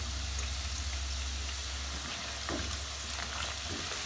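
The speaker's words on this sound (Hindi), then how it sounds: "आलू को फ्राई करते वक्त हम इसमें दे देते हैं थोड़े से हल्दी।" Potatoes fry in a pan with a little turmeric, giving a steady, close sizzle and crackle that runs throughout with faint stirring clicks and no talking.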